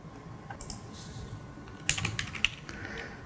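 Quiet computer keyboard typing while entering a name and product key during a software install, soft clicks that turn into a brief quicker burst of keystrokes near the end.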